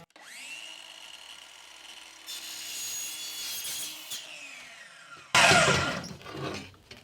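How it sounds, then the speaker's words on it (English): A saw cuts a 45-degree miter through a Schluter RO100 metal edge profile for tile: a steady whine builds as the blade spins up, followed by a harsh, loud burst as it bites through the trim. "I'm going to do a 45 miter on this RO100 profile."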